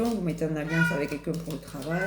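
A cat meows repeatedly indoors, loud and close, its drawn-out cries overlapping someone speaking French.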